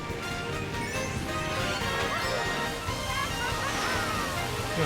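Sloshing, splashing water on the toilet-water track in the Mario Kart racing game, a busy continuous wash of splashes and swishes with game effects layered throughout.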